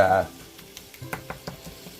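Ground beef fries in a pan, a close sizzle broken by several short scraping stirs from a spoon or spatula, with a voice talking over it.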